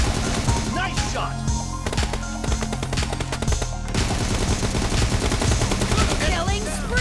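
Gunfire in the mobile battle game PUBG Mobile, dense rapid automatic shots layered over constant game sounds and effects, loud and continuous throughout.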